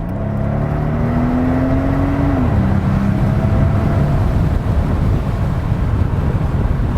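A loud, steady Mercedes SL65 AMG engine drones and whirs continuously, with a rising then falling tonal note partway through and rushing noise throughout, no talking.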